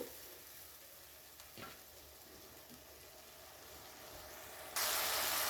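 Spice paste cooking down in oil for a potol dish as it is stirred, giving a quiet, even sizzle with a brief scrape, then a sudden louder burst of hiss toward the end.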